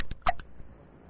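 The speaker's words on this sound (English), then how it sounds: "This is the worst case of hiccups we've ever treated." A cartoon character in The Simpsons hiccups loudly: one sharp, close hiccup with a brief gulping onset, followed by a faint trailing sound and quiet room tone.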